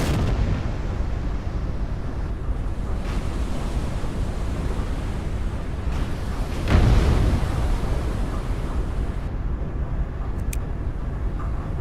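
Battleship guns fire in the naval combat game Battleship Command, a rumbling boom near the middle over a constant wash of sea and engine noise, with fainter distant thuds elsewhere.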